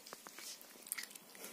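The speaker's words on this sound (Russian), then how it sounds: "Ради чего она жует мои волосы?" A cat chews on a person's hair, giving quick close, soft crunching bites and small snipping clicks in an irregular rhythm, quiet and without talk.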